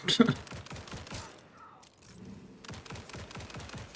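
A turret in Grind Survivors fires rapid, clattering bursts, loud at the start, dipping into a near-quiet gap, then resuming with steady repeated shots, while someone talks over the action.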